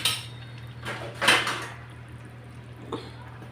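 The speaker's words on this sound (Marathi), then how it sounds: "याच्यावर झाकण ठेवते मी आता" A lid set onto a pot of vegetables, a couple of metallic clanks and scrapes followed by a faint later clink over a low steady hum, no talk.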